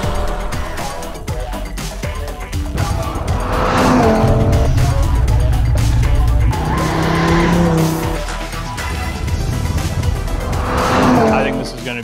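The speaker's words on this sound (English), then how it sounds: "So this is going to be the standing start lap." A car doing a standing-start lap on a race track, engine roaring up and down and tires squealing loudly in long swells as it passes, with people talking over the noise.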